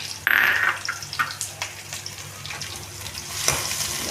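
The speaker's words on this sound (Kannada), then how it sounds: "ನಾವು ಶುಂಠಿ ಬೆಳ್ಳುಳ್ಳಿ ಗೆಜ್ಕೊಂಡಿದ್ಮೇಲೆ ಅದನ್ನು ಹಾಕಿದ್ದೀನಿ. ಮತ್ತು ಅದ್ರ ಜೊತೆ ಕರಿಬೇವು ಹಾಕಿದ್ದೀನಿ." Ginger, garlic and curry leaves fry in hot oil with a close, crackling sizzle, several spatula scrapes and a sharp metallic clink near the start, with no speech.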